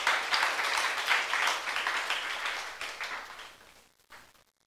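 Applause from a church youth congregation during a sermon, a dense wash of many hands clapping that swells, gradually thins and fades, ending in a brief final burst before silence.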